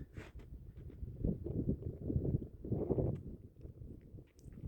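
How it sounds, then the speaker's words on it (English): Wind gusting across a frozen lake on a winter evening, low rumbling buffeting against the microphone that swells and fades in uneven gusts, fairly quiet overall. "Beautiful day on the lake if it wasn't so windy."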